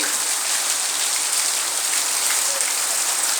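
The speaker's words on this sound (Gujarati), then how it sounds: "કેટલો અતિ ભારે વરસાદ પડી રહ્યો છે" Very heavy rain pours steadily in a village, with no wind or thunder, forming a dense, even hiss that stays constant and loud throughout.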